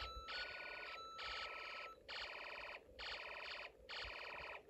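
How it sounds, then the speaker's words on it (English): A loud electronic alarm from a Snap Circuits toy circuit pulses in repeated bursts, five buzzing tones with short gaps between, steady and close. "Even after the music stops, the alarm continues to sound"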